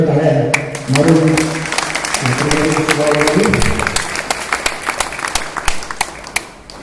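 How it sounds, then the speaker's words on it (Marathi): Loud audience applause at a book launch, a dense wash of many hands clapping that starts strongly and thins toward the end, overlapped early on by voices and a sustained tonal background sound. "सर्वांनी जोरदार टाळ्या मारून"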